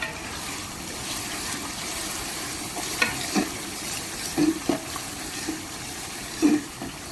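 Paneer frying in a pan outdoors on a farm gives a steady, close hiss of sizzling oil, broken by a few soft clinks and stirring scrapes.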